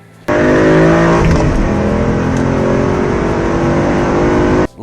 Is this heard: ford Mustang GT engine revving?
yes